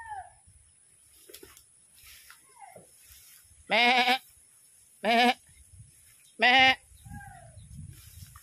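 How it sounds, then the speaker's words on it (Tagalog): Goats out at pasture being herded home give three loud, close bleats, evenly spaced a second or so apart, over quiet outdoor background. "Ito po yung pang-apat na kambing."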